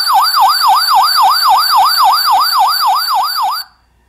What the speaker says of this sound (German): dem Gimmick 1271, also dieser Alarmanlage